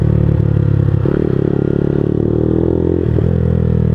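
A motorbike ridden at night with a snapped clutch, its engine droning loud and close with a steady rough rattle, the pitch shifting slightly twice as it is ridden along.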